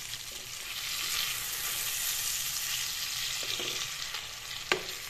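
Fish pieces frying gently in a pan over low heat for a few minutes for a fish curry with cauliflower, a steady soft sizzle throughout with a few faint utensil taps and one sharper clink near the end.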